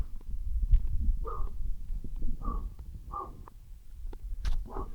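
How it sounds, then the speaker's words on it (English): A dog barking nearby in a residential neighborhood of The Villages, Florida: four or five short, moderately loud barks at uneven intervals over low outdoor rumble. "You can hear the dog barking."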